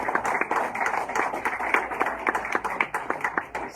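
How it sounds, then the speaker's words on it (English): A small graduation audience at a workforce development course claps in a light, uneven patter, individual hand claps clearly separable and rising and falling over a few seconds. "One little round of applause."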